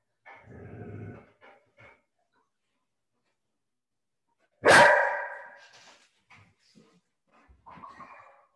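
Dogs bark and growl at a nearby owner wanting a ball thrown, with a rough low growl at the start, a sharp loud bark midway and a few more short barks and growls after a pause, with no talk.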